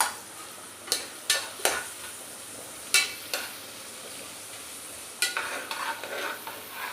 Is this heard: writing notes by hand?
no